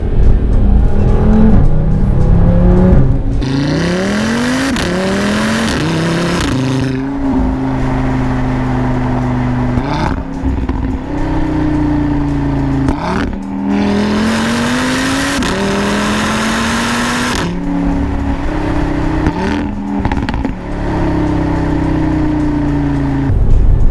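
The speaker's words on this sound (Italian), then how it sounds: "Sentite come scoppietta." A loud five-cylinder turbo engine in a 500hp ABT-tuned Audi TT RS-R revs hard through repeated gear changes, its exhaust crackling and popping between shifts.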